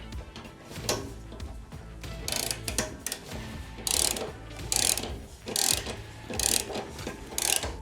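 A ratchet wrench tightens a nut on a bolt under a Ford Transit van during a loading ramp install, giving several bursts of rapid clicking ratchet strokes with mechanical rattles between them.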